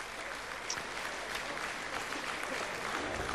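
Spectators at a boxing match in Germany applaud between rounds, a steady, moderately distant crowd clapping that holds evenly for a few seconds without speech.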